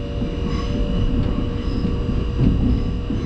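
A steady low rumble and hum fill the cabin of a moving British passenger train on a trip from Doncaster. The drone is broadband and continuous, with no voices over it.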